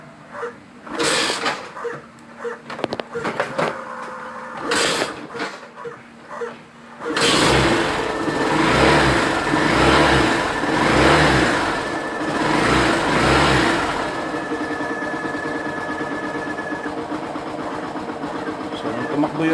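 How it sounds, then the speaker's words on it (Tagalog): A Yamaha SZ motorcycle engine cranks after a few knocks and clatters, catches, and settles into a steady, close idle with rhythmic rises in revs. "So, tumakbo yung ng motor."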